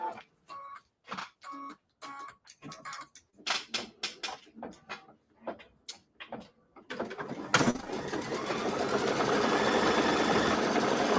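An embroidery machine stitches down an appliqué snowflake on a hot cocoa mini quilt, first in short bursts with pauses, then in a steady continuous run that grows louder near the end.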